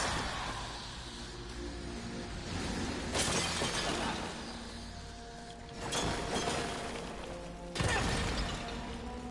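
Clay pots smashed in the video game Darksiders 3, several loud crashing breaks arriving a few seconds apart over a steady game music and ambience bed.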